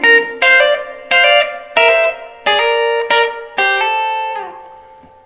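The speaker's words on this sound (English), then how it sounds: "I started playing it just using hammer-ons" Electric guitar line played with hammer-ons, B-bender style: about seven clear, sustained notes in a loose rhythm, the last one ringing out and fading, with no talk.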